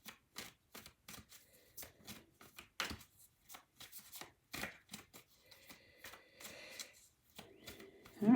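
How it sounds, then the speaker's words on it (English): Tarot cards being shuffled in quick riffling bursts, a rapid run of crisp flutters and taps with short pauses, close by and with no talking. "I will just shuffle a little bit more and then pick a card from the top"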